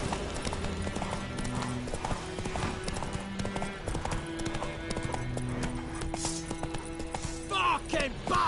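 Roach, Geralt's horse in The Witcher 3, gallops with steady, dense hoofbeats alongside sustained game music, with a brief voice and a short whinny-like sound near the end.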